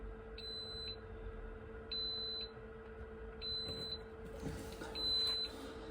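A quail egg incubator gives short, thin electronic beeps as its button is pressed, four evenly spaced chirps in a quiet room with a low steady hum beneath.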